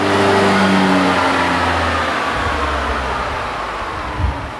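Electric motor on a test run winding down from about 6,000 RPM, a loud, close whine whose tones slide downward and fade into a low rumbling hum.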